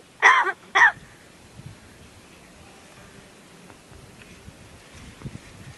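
A crow makes two short, harsh coughing sounds close by, one right after the other, followed by quiet background hiss with faint scattered noises.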